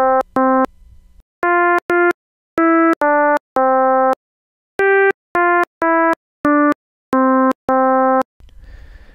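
Phase-modulated synthesizer tone built in Reaktor, sounding as a series of short, loud buzzy beeps with rich harmonics, played alone in irregular bursts with brief silences between, ending in a faint noisy hiss.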